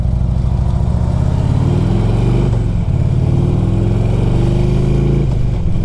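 A used 2002 Harley Davidson Electra Glide Ultra FLHTCUI rumbles loudly underway, its deep V-twin engine note steady and close with slight rises in pitch as it pulls along.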